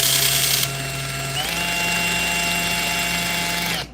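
A Milwaukee drill running in drill mode at its low speed 1 setting, a steady close motor whine with a slight pitch shift midway that stops abruptly at the end.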